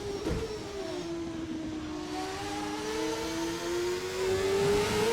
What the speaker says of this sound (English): Hit the rev limiter again.